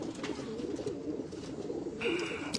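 Pigeons, a Teddy breed hen among breeder birds, cooing softly and continuously in the background, a low burbling murmur with faint rustling nearby.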